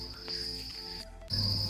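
Large crickets in cricket-farm tubs chirp in a steady high trill that runs continuously, briefly dips, then returns strongly over a low background hum; no one speaks.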